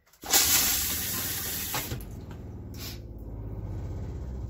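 Water gushes into a newly installed Thetford toilet in a 2018 Keystone Outback RV as the water pump runs, a sudden loud hiss of flow settling into a steady rushing stream with a low pump hum beneath.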